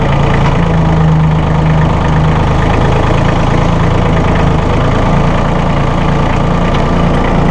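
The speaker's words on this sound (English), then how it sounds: "It's a quiet engine." A Massey Ferguson 1825E hydrostatic compact tractor's small 24 hp diesel engine idles steadily at close range, a low, even rumble with a faint rhythmic knock, running continuously without revving.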